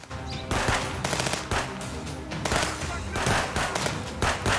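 Rapid bursts of automatic gunfire crackle loudly in the video game Contraband Police, several sustained volleys with short gaps between them.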